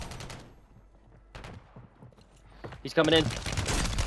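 Gunfire from a pistol in a Call of Duty Rebirth Island match, several sharp shots spread across a few seconds, with a louder burst near the end and players talking over it.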